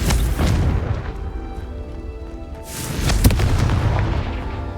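A Confringo fire spell explodes in Hogwarts Legacy: a loud booming blast opens, then a second sharp detonation follows a few seconds later, each trailing into a rumbling roar.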